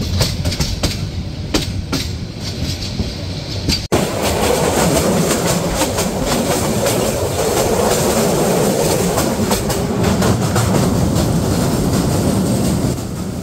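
Kalni Express passenger train running from Sylhet to Dhaka: a loud, continuous rumble with rhythmic clickety-clack of wheels over rail joints, heard from inside the carriage and intensifying after a sudden jump partway through.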